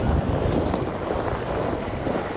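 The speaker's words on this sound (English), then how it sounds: "It's a bit of a wind tunnel right here." Strong wind gusting between tall cliff walls in a canyon at an overland campsite, making a steady, loud roar with heavy low rumble from buffeting on the microphone and no talking.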